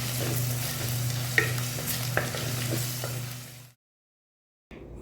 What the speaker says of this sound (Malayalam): ഇഞ്ചി വെളുത്തുള്ളിയൊക്കെ മൂത്ത് വന്നിട്ടുണ്ട്